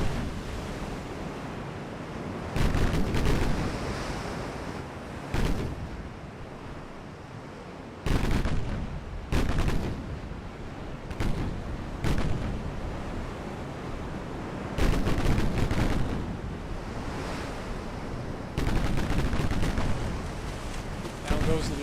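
Naval gunfire from warships in the naval battle game Ultimate Admiral Dreadnoughts: repeated heavy booms and rumbling blasts at irregular intervals over a steady sea-like wash, with someone talking at times.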